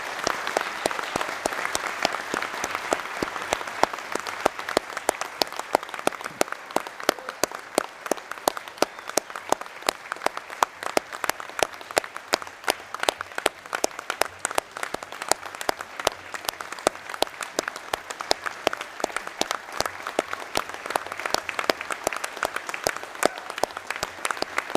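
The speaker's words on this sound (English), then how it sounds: "let's have a round of applause" Sustained applause from a seated audience at a fire and EMS department commissioning ceremony for newly sworn and pinned lieutenants, steady dense clapping filling the hall for about twenty-five seconds with no talk over it.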